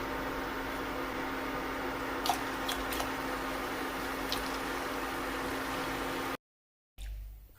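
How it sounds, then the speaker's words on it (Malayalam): Ring murukku fry in hot oil with a steady, dense sizzling hiss and a few brief clicks and bubbles, continuous and moderately close before cutting out near the end. "ബാക്കി നമുക്ക് ഇതുപോലെ വറുത്തെടുക്കാം."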